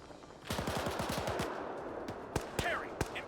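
Enemy machine gun fire in Arma 3, a fast burst of rapid shots followed by scattered single cracks, fairly close and loud over faint background noise.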